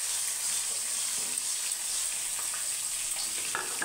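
Paneer pieces fry in a pan with a continuous, soft hiss of oil, an even sizzle with faint small crackles throughout and no voices.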